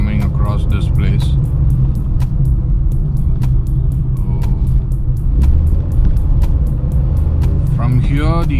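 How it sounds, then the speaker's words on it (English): Busy road traffic near the big temple in Thanjavur, a steady loud rumble of cars and trucks close by with regular ticking clicks and a brief brake hiss near the end. "The traffic is very hectic normally, as you might find many people coming across this place."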